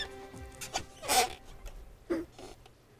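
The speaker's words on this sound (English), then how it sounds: "That's the chair. Sounds very squeaky, too." An empty chair squeaking and creaking in a radio studio, with a few short faint squeals and rustles spread across a quiet background.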